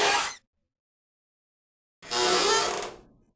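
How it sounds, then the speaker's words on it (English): Stall door opening and closing, a sound effect for the robot game Shoot Many Robots: a short mechanical clatter, then after a pause a longer creaking, rattling movement that fades out, heard alone. "Here's the sound of a stall door opening and closing."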